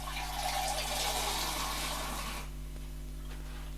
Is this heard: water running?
yes